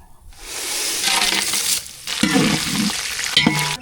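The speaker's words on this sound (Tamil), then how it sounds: "பட்டை வகையில் நல்லா பொரிஞ்சிருச்சு" Whole spices such as cinnamon bark sizzle in hot oil in a pan for chicken gravy, with steady loud crackling frying and brief stirring scrapes, close up.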